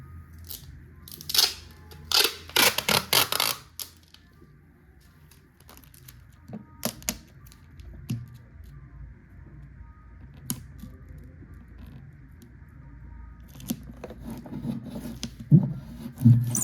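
Tape is pulled and pressed onto the wooden body of an acoustic guitar in a quick run of sharp, close crackling rips, followed by sparse faint clicks and handling noises in a quiet room.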